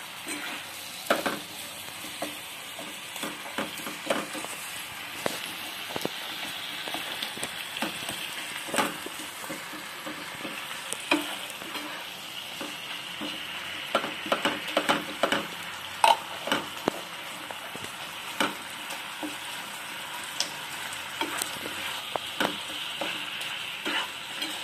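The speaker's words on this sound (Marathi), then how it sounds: "व्यवस्थित परतून घ्यायचं आहे" A sweet Navratri dish mixture sizzles in a pan as it is sautéed and stirred, with a soft continuous frying hiss and frequent close scraping and tapping of the spoon.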